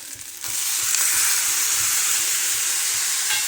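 Guar bean pods hit hot oil in a pan and break into a loud, continuous sizzle that swells after a brief quieter start, a bright steady frying hiss close up with faint stirring taps.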